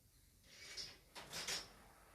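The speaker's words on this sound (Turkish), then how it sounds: "Ben de bu kapıyı açacağım." An exit gate opens in Dead by Daylight Mobile, a mechanical grinding and whirring that rises in two hissing swells, moderately loud against quiet game ambience.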